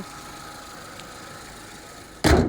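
A steady, low idle from a Renault Megane III 1.6 16v 110 hp petrol engine hums evenly throughout, ending in a sudden loud burst of broadband noise.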